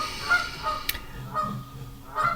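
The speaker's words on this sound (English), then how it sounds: "mating and baby season for the geese, so they are honking loudly." Geese honk repeatedly at a moderate distance during mating and baby season, their nasal calls coming in uneven bursts over a steady outdoor background.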